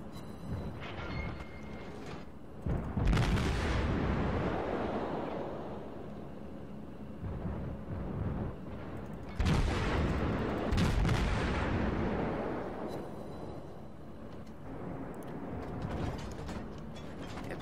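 Gun salvoes from a German cruiser in World of Warships: two heavy booming volleys, one near three seconds and another near ten, each rolling away over a steady mechanical game hum, with no talking.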